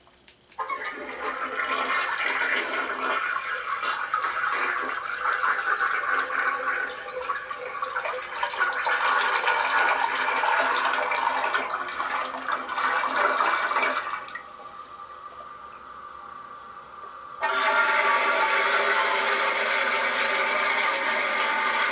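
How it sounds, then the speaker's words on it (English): A toilet flushes with a loud rushing swirl of water, dips briefly into a quieter trickle, then surges again as the tank refills. "looked up a toilet flushing sound"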